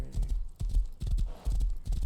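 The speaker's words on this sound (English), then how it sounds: "The horses can go up cliffs and stuff." Horse hooves clip-clop close and clear in the video game Rust, a quick rhythmic run of hoof strikes in short bursts with little else around them.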